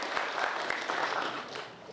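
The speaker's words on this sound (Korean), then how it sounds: "박수" Brief applause from an audience at a mayoral candidates' debate, a short burst of scattered clapping that holds for just under two seconds before fading a little.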